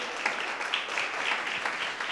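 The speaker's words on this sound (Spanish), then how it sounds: "le damos un aplauso a todos los que nos están escuchando" Audience applause during a church worship service, a moderate, even patter of many hands clapping heard at some distance, steady and unbroken.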